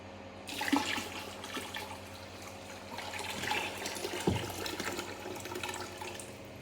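Water splashes and gurgles steadily as it is poured into a saltwater aquarium, a soft continuous rush with a brief louder splash partway through.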